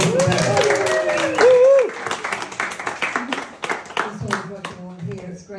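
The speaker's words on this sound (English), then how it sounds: "Big round of applause for Bev." A crowd at a sixth birthday party breaks into steady applause, clapping continuing for several seconds after a voice speaks over the start.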